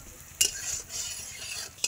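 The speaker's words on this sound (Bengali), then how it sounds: "এখানে আমার পেঁয়াজটা লাল লাল করে ভাজা হয়ে গেছে" Onions frying in a pan until reddish-brown, with a soft steady sizzle under a brief clink and scrape of a stirring utensil against the pan, close and fairly quiet.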